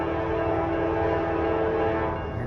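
A CSX freight train rolls past at close range with a steady, loud rumble and tonal horn-like droning through the whole stretch, with no talk over it.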